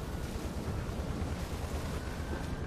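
Heavy booming weapon fire against a Phantom dropship in Halo 3 on Legendary, a dense, rumbling roar with explosive low-end texture that stays loud and steady throughout.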